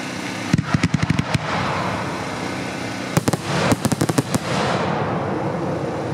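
Loop chains of fireworks shells fire in two rapid volleys of sharp, loud bangs, each a quick string of reports over a continuous crackling roar, heard close.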